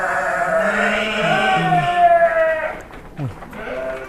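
Suffolk sheep at a pen in Dieng, Central Java, bleating repeatedly and fairly close, with overlapping calls from other sheep and some background chatter.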